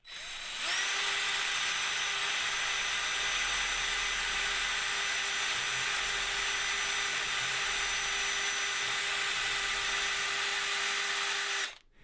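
A power drill spins up and runs at a steady high-pitched whine for about eleven seconds, boring a pilot hole into a pool table for a rubber drop pocket, close and loud, then stops abruptly with no talking.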